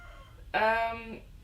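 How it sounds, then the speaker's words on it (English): A single rooster crow, a drawn-out harmonic call lasting under a second, moderately loud against a quiet background. "you can hear the rooster in the background"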